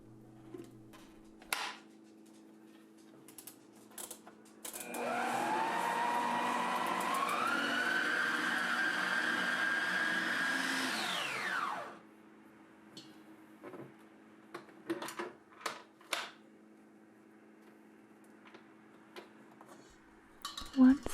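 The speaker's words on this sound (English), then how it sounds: "we're going to seal it up and begin the mixing process" Electric mixer blending pumpkin cheesecake filling inside a sealed bowl, a loud steady motor whine for about seven seconds that rises slightly in pitch then cuts off, framed by quiet taps and clinks of handling.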